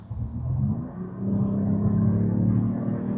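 A Mercedes-AMG E53 in sport mode revs up, its engine rising into a steady, deep droning rumble that swells and holds near the car, loud and without talk.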